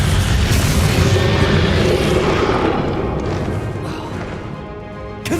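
Descendo spell impact in Hogwarts Legacy during a final boss fight against Ranrock: a loud booming crash that spreads into a sustained rumbling roar, fading slightly before a fresh sharp hit at the very end.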